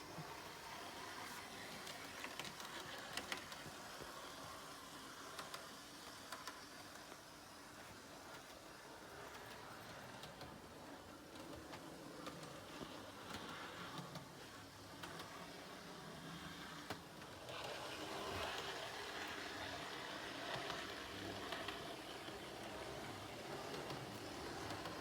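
A Hornby Class 153 DMU model locomotive cruising along a model railway track, giving a steady, quiet rolling whir with faint clicking that brightens and rises slightly toward the end.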